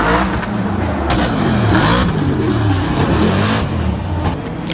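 Drift car number 162 revs hard as it launches, its engine roaring loud and close, rising and falling in sharp bursts of acceleration.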